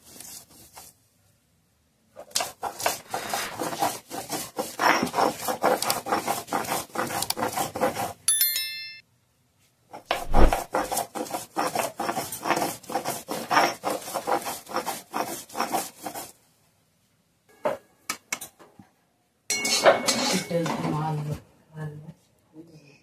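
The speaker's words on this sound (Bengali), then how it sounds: "এদিকে চিংড়ি মাছটা বাটা চলছে।" Shrimp and fried onion being ground into a paste, heard as rhythmic rasping strokes in long bursts separated by short pauses, close and fairly loud.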